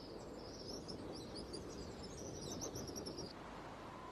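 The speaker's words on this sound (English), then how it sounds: "Red-winged starlings mob her as she starts off." Red-winged starlings call in a steady stream of chirps and tweets while mobbing a black eagle in the Drakensberg mountains of South Africa, with a constant wash of background noise beneath them.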